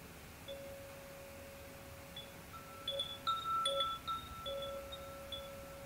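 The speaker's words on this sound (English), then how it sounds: "to appreciate the sound of a wind chime" Crystal wind chime ringing softly: sparse, clear metallic tones sound singly and in small overlapping clusters, faint and gently sustained against quiet background hiss.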